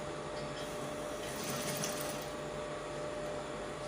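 A sewing machine stitches the shoulder seams of a dress with a half-inch seam allowance, a steady close mechanical whir that runs without pause, slightly louder in the middle, with no voices.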